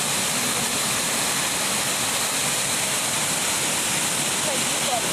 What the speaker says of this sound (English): Nice Gigantor waterfall.